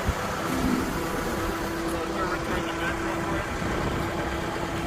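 A 2021 Caterpillar 910 wheel loader rumbling as it is driven, its diesel engine a steady low drone, with a voice talking over it.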